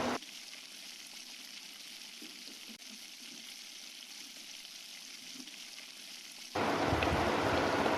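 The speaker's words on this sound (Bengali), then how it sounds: "মশলাটা প্রায় কষানো হয়ে গেছে, এবার একটু জল দিয়ে দিচ্ছি।" Water poured onto meat masala frying in a pan: a quiet low simmer first, then a sudden loud, steady hiss of sizzling for the final seconds, with no talk.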